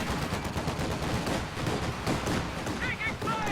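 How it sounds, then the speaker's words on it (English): An M3 half-track machine gun firing in a Company of Heroes-style strategy game, a sustained rattling burst under continuous commentary with distant battle noise. "gets quite a healthy burst off on that M3 before both vehicles pull back for some repairs"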